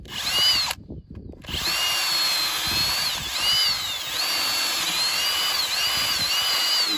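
Power drill boring a hole into wood while building a farm gate, with a steady whine running nearly throughout, a short pause near the start, and slight pitch dips as the bit bites.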